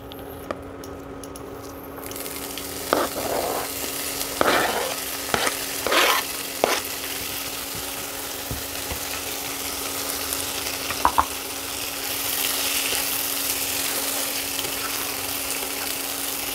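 Chopped spinach sizzling in a pan over fried mustard seeds and five-spice, with steady frying hiss and a few stirring scrapes and clinks in the middle, no talk.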